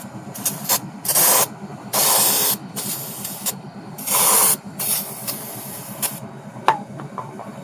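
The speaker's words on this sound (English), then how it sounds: "So this is where your brake clean comes in" Brake cleaner sprays onto a Ford F-250 rear axle housing in several sharp, loud hissing bursts of varying length, with rubbing and scraping sounds between them.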